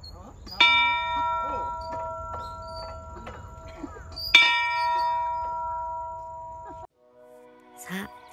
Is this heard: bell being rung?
yes